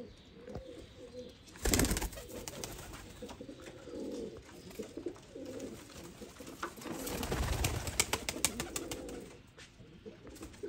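Chukras pigeons coo softly in low, repeated murmurs, with a couple of bursts of wing flapping and rustling nearby.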